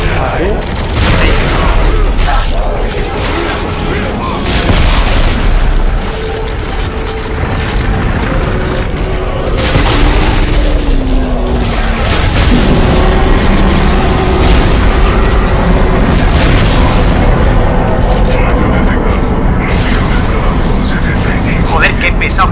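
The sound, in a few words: gunfire and explosions while shooting creatures in Dead Space 3 video game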